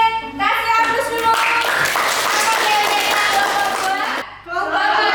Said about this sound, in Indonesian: Kasih aplaus dulu.